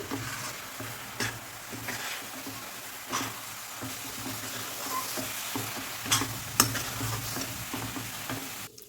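Wet coconut barfi mixture with milk powder being stirred in a pan, a steady scraping and soft sizzling texture with intermittent spoon clicks against the pan, close and moderately loud, no talking.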